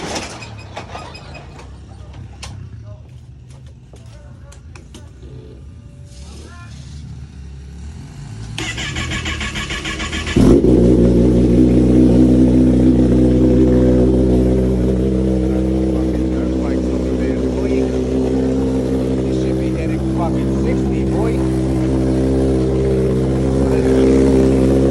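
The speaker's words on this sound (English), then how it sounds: "I'll turn on the bike now." A 2023 Kawasaki ZX-10R ABS KRT Edition sportbike sits in a garage. After clicks and handling noises its engine cranks and fires, then settles into a loud, steady idle that runs for the rest of the clip.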